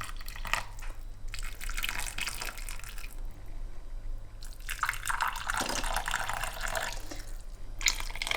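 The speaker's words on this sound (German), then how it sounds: "Ja, es kommt noch etwas Wasser." Water is poured carefully into a pot of stuffed peppers with minced meat, in bursts of splashing and trickling separated by quieter pauses, close by over a steady low hum.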